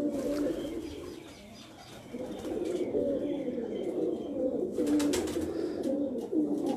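Pigeons coo steadily from a rooftop loft, low soft rolling calls overlapping throughout with a few chirps mixed in and faint background noise.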